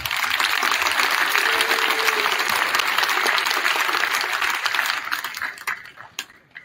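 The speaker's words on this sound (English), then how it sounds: "So can we give them a round of applause as well?" Audience applause fills a middle school winter band concert, steady and full for about five seconds before thinning into a few scattered claps at the end.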